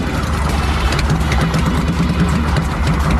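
A Ridley automatic motorcycle engine idles in neutral, holding a steady, continuous low rumble close by with no throttle changes and no one talking.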